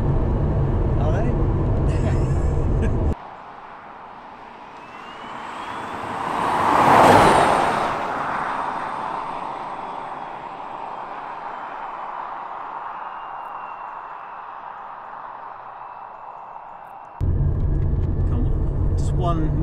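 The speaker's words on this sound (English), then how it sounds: "Another squeeze of the accelerator pedal before I bring it back." An electric Porsche 911 accelerating, a rising whine that swells to a loud peak and then fades away, heard between stretches of talking at the start and end.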